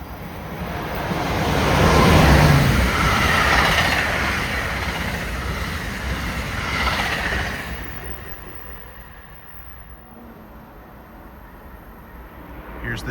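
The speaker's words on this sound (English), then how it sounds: "Here's an express train flying through." An express train flies through a station at speed, a loud rushing roar mixed with wind buffeting that surges, eases, swells again, then trails off.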